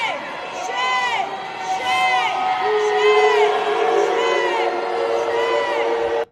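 An outdoor political crowd at a protest around a man in a Trump flag keeps up loud, overlapping screams, whoops and chanting shouts, dense and continuous for several seconds before cutting off abruptly.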